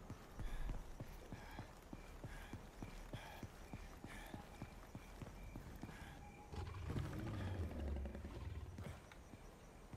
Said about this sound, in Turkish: Evet, böyle arkadan bir ayak sesleri falan geliyor.